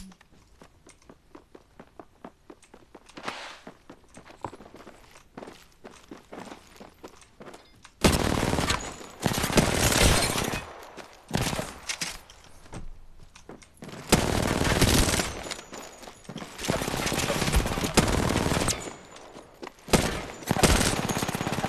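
Gunfire from a shotgun and other weapons in the video game Apex Legends, with quiet footsteps and light clicks at first, then loud sustained bursts of shots and blasts that come in repeated waves.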